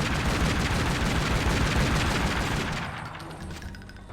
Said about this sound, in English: Now I have an infinite assault rifle.